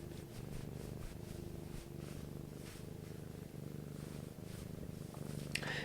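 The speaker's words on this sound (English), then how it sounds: "noise gate off so you can hear the cat purring" A cat purrs close up, a soft, steady rhythmic rumble that continues throughout, with a small click near the end.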